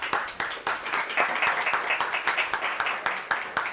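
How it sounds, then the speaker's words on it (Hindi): A small audience applauds for Shyma with rapid, fairly even clapping that carries on steadily throughout, close and moderately loud. "शायमन के लिए जोरदार तालियां"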